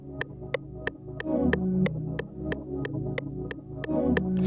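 A synth plays a looping arpeggiated melody, chopped from chords, with bell-like tones over a low, steady hum, accompanied by evenly spaced ticking clicks in a jerk and hoodtrap beat.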